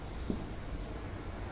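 A pen scratches across paper while a math exercise is written out, a steady close scribbling that runs throughout with no talk.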